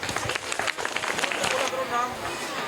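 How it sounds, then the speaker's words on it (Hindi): A class of schoolchildren bursts into loud, dense clapping during a classroom quiz, then the burst thins into lighter, scattered sound. "ठीक है, करेक्ट आंसर, जोरदार तालियां"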